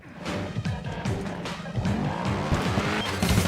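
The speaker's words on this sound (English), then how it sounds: "revving engine sound" A racing video game car engine revs and whines through rising and falling gear shifts, with tire squeals mixed in, loud and continuous.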